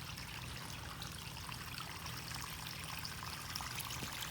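A garden pond water feature trickles in a steady, continuous stream, moderately loud and close, with no talking.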